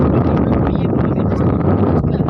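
Strong wind buffets the microphone outdoors, a loud continuous low rumble with gusty surges throughout.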